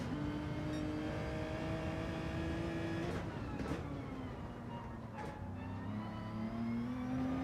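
A racing video game car engine drones steadily through the whole stretch, revving up and down with rising and falling whine harmonics as the lap begins, loud and continuous with no talking.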